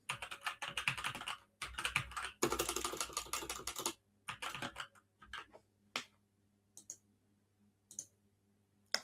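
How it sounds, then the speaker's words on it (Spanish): An email address is typed on a computer keyboard in close, quiet surroundings: bursts of rapid key clicks, then sparser single taps and pauses. "Yo aquí pongo un correo, pondría un correo electrónico."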